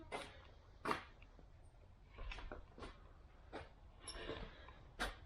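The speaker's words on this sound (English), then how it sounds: "Puppy wants to play with the ball." A puppy makes faint, short whimpers and huffs in scattered bursts, wanting to play with a ball, heard quietly over a soft background with no one talking.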